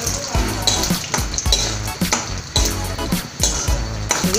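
Gram fries in hot oil in a metal pan for a puffed-rice mixture, with loud rhythmic scraping and clanking of a ladle against the pan roughly twice a second over a constant sizzle, close by.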